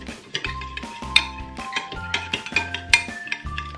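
A spoon stirs instant coffee, sugar and water in a glass for dalgona coffee, clinking sharply against the glass in a quick, irregular rhythm with ringing metallic tones.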